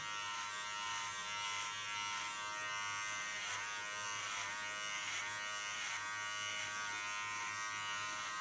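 An electric hair clipper buzzes steadily and close up as it cuts a woman's hair short, with a continuous even drone and no talking throughout.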